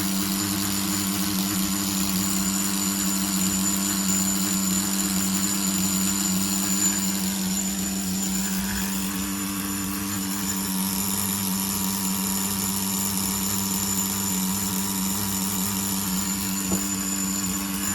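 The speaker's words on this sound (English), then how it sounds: "Sounds like we might be able to lower the idle a little." A Tamiya TGS-R nitro RC car engine, fitted to a Subaru-bodied on-road car, idles steadily and loudly close by, a continuous buzzing drone that holds evenly with no talking over it.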